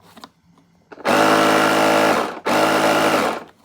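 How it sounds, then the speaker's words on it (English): A small, inexpensive air compressor of the kind used to inflate bike tubes kicks on loudly nearby, runs in a harsh motor drone for over a second, cuts briefly, then starts again and runs before stopping; faint sounds precede it. "we have a compressor. Oh, that might not work. That might... There it goes."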